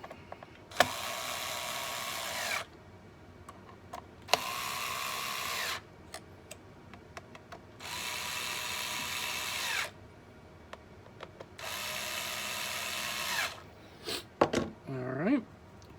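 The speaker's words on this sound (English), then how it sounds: "And we screw this back down." A power screwdriver drives screws into a Dell Latitude 5420 Rugged laptop during display and cover replacement, with four sustained whirring bursts of about two seconds each separated by short pauses, followed by a few brief clicks and squeaks.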